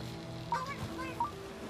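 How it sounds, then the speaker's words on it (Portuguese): A parrot in the video game Stranded Sails gives two short, honking squawks about a second apart, heard over a steady ambient background. "Esse é o pássaro, um papagaio."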